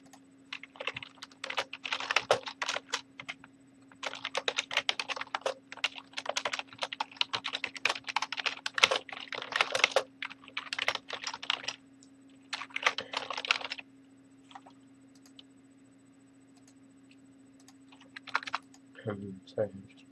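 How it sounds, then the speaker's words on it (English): Rapid bursts of computer keyboard typing during live programming work, with clustered keystrokes and short pauses between runs, heard close over a steady low electrical hum. "I'm just typing there"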